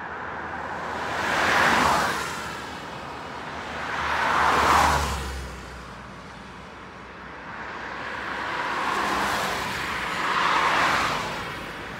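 Cars rush past one after another on a snowy road in Belarus, each swelling to a whooshing peak and fading, four passes at a steady moderate distance.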